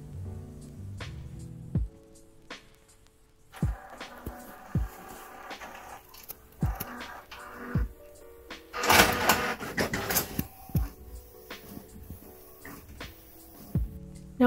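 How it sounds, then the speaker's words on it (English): A home printer runs off a sticker sheet, giving intermittent clicks, thumps and whirring feed movements with quiet gaps between them and a louder burst of mechanical activity midway. "Now while this prints out"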